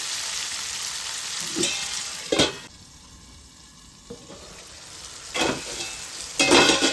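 Onions and tomatoes cooking under a lid in a pan for a prawn and okra curry, giving a steady sizzle with a few sharp clanks or stirring knocks and a quieter muffled stretch in the middle.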